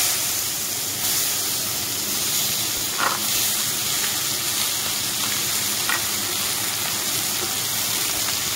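Sliced ash gourd hits hot oil with a five-spice tempering in a pan, giving a loud, continuous sizzle with a couple of faint stirring clinks and no talk.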